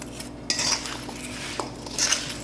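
A utensil clinks and scrapes against a bowl while apple pie filling is mixed, making a few sharp metallic taps over a soft stirring rustle, close by and with no talking.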